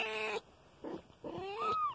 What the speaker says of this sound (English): The new kittens are now 2 weeks old, or almost 2 weeks, 12 days.